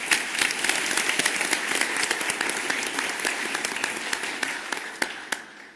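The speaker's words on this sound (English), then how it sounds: "giving all these individuals an incredible deserved round of applause" Sustained audience applause at a conference opening plenary session, dense and even, with many hands clapping before thinning out and fading at the end.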